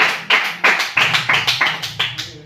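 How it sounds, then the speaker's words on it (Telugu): Hands clap in praise of God in worship, about eight firm, evenly spaced claps, close and loud, each ringing briefly before the next. "చప్పట్లు కొట్టి దేవుడికి స్తోత్రం చేస్తారు."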